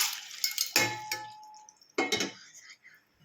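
Pasta being stirred in a cooking pot, with clanging metal knocks and scraping in two bursts separated by a quieter stretch.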